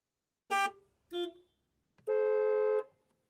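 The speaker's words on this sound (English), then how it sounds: "the sound of traffic from outside." Car horns honking in traffic: two short toots followed by a longer sustained blast, loud and nearby with quiet between.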